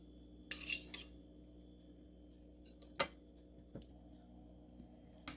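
A knife cuts a piece off a deep-fried Tunnock's wafer on a plate, giving a few quiet scraping clinks of metal on crockery in an otherwise hushed room.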